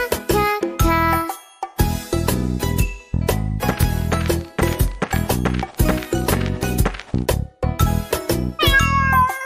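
A cat meows over and over in a children's bathroom song, the cries clipped and close against bouncy music with a jingling tinkle and clip-clop rhythm.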